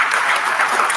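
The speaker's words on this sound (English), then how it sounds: "Let's give them a round of applause" A brief burst of audience applause at a kickoff event, a dense wash of clapping lasting about a second with no talk.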